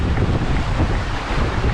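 Strong wind buffets the microphone on the Bristol Channel shore at the Cardiff foreshore while rough waves wash in, a loud, continuous roaring rush with no voices.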